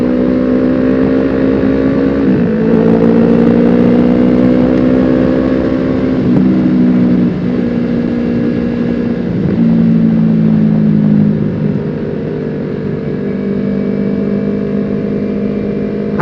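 A Yamaha YZF-R3 motorcycle is ridden at speed, its engine loud and close with a steady high drone and short dips and rises in pitch as the rider shifts and revs again.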